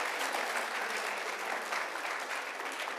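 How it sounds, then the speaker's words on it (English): Sustained audience applause at an entrepreneur leadership talk, a dense steady wash of many hands clapping that fills the whole stretch at even loudness with no voices on top. "Now, I want you to go ahead and applaud."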